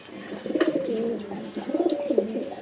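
Pigeons in a loft coo in two soft, rolling phrases, close and fairly quiet, with a faint click or two between them and no talking.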